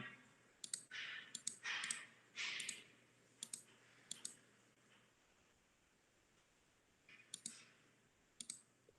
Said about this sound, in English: I am going to use the left click